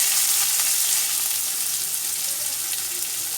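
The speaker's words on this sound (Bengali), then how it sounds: "দিয়ে দেব গোটা জিরে, জিরেটা ভাজার গন্ধ বার হলেই" Whole cumin seeds fry in hot oil with a steady, dense sizzle and crackle that stays loud and close throughout, with no voices.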